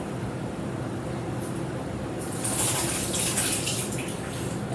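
Wet egg mixture for scones is poured into a bowl of flour, a continuous close liquid pour that grows a little louder and splashier midway, with no talk over it.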